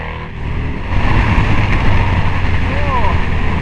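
Harley-Davidson Screamin' Eagle Road Glide with a big-cylinder V-twin pulling hard on the road, its deep engine rumble surging under heavy wind noise, then a brief whine near the end.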